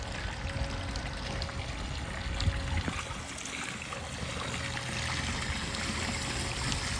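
Water runs over a hot tub spillway into a backyard pool at a Lake Havasu home, a steady close splashing trickle with no other sounds.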